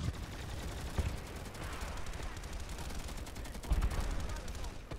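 Gunfire in a PS2 video game, a quick rapid string of shots with two sharper bursts standing out over a busy, moderately loud game soundscape.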